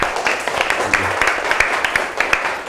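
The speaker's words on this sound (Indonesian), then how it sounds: "berikan tepuk tangan yang meriah" A classroom of students claps in lively, uneven applause, a fairly loud burst of many hands that carries steadily throughout.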